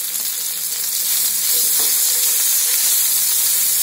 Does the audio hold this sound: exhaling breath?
no